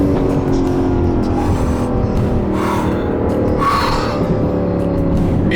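An Aston Martin Vantage sports car is driving, its engine giving a steady, loud, close drone with a faint tire hiss that holds throughout and no talk over it.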